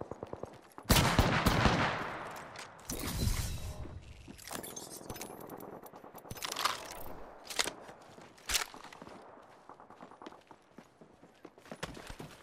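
Gunfire in Apex Legends comes in loud, close bursts of rapid shots separated by quieter gaps, with sharp single cracks scattered throughout and a few softer footstep-like clatters in between.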